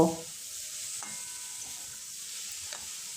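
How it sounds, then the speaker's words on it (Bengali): Soft sizzling and stirring in a pan as fried soybean and potato cook in spices, a steady low frying hiss with a couple of light scrapes of a spoon. "তারপর মশলার সঙ্গে কিছুক্ষণ কষে নেব"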